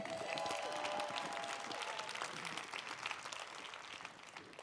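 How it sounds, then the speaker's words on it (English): Conference audience applauding as a Bay Area Arab music ensemble is introduced: broad, dense crowd clapping with some voices, starting full and slowly thinning out. "We can clap right out the gates for that."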